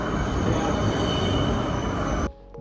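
A light rail tram at the Parramatta Square stop in Australia gives off a loud, steady rumble with a metallic hum. The sound cuts off abruptly near the end.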